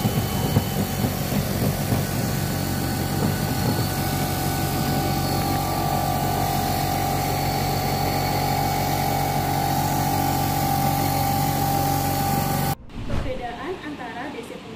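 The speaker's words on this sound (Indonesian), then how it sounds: "untuk menjalankan kedua mesin ini, kita akan menyalakan main switch-nya" Two electrical machines in a university electrical engineering lab run together after the main switch is thrown, giving a loud, steady motor hum and whine that holds for a long stretch and then drops away abruptly near the end.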